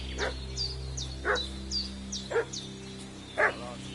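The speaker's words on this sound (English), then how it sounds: "What's that dog making such a fuss about?" A dog barks four times in the Kingdom Come: Deliverance II video game, evenly spaced sharp woofs at moderate distance over a steady low hum, with faint high chirping between them.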